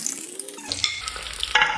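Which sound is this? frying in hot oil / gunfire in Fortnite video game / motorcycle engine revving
frying in hot oil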